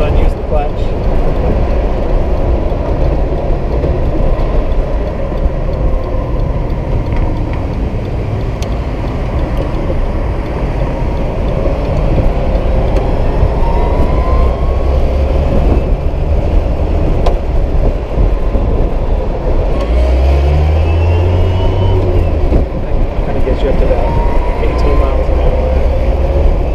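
A VW Thing drives along with steady road and engine rumble, loud and continuous, with a short low tonal change late on as it downshifts.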